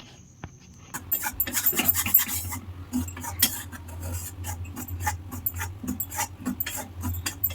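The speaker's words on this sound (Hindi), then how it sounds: "बेसन के टिके हल्का फ्राए करमा" Besan (gram flour) stir-fried in a kadai, with steady scraping and rubbing strokes of a spatula against the pan over a low sizzle, repeating rhythmically and close up with no talking.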